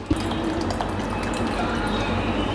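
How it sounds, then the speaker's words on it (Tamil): Water is poured into pumpkin dosa batter made with semolina and rice flour in a kitchen, a close, steady splashing trickle that continues for a few seconds. "இன்னும் கொஞ்சம் நம்ம தண்ணி சேர்த்துக்கலாம்"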